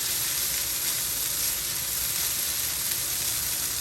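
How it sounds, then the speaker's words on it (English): Shrimp fried rice with sweet peppers frying in a pan gives a steady, bright sizzle and hiss that stays constant and close, with no talking. "Make sure everything is fried in really nice here."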